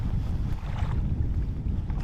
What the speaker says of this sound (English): The wind's really starting to kick up too, and it's cold, man